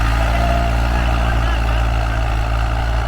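An Eicher tractor engine pulling an 11-tine desi cultivator through a field runs with a loud, steady, low rumbling drone that holds continuously without letup.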